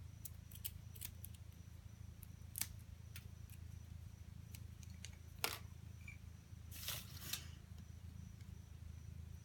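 Scissors trim the tacked-together fabric layers of a homemade dog bow, a few sharp close snips scattered over a quiet, low room hum.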